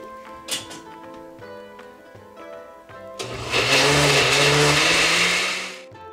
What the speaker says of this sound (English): you'll just pulse it until it is well combined